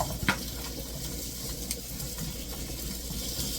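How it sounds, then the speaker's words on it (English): Onions sauté in a pan with an even, soft sizzle and hiss, broken by a couple of faint utensil taps, close and fairly quiet with no talking. "So I'm gonna let these onions saute for a little bit."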